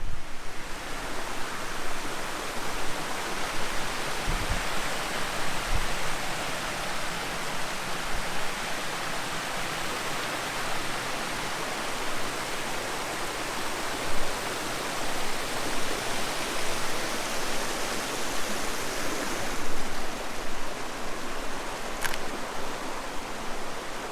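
A waterfall roars as a steady, dense broadband rush, loud and unbroken for the whole stretch, with a few faint low thumps early on and no voices.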